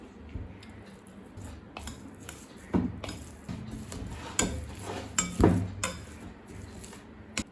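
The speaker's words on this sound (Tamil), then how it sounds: "இப்போ இதை நல்லா மேஷ் பண்ணிக்கலாம்." Repeated soft thuds and scraping of a utensil mashing boiled potatoes in a pot or bowl, irregular strokes at close range.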